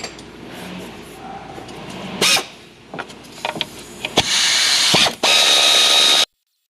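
Bolts come off around the transmission of a 2021 Hyundai Tucson in a series of short, loud bursts from a power tool, separated by clicks and handling noise, before the clip ends in silence.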